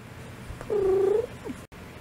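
A playful kitten purrs in a short, close burst lasting about half a second, with quiet room sound around it and no talking.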